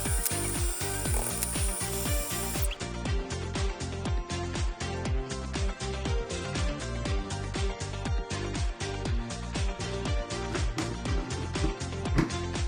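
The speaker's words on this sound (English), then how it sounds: "While I was grinding the pork butt, I added in the liver" A meat grinder works through pork butt with a steady, fast train of loud mechanical clicks and grinding pulses, continuous throughout with no talk.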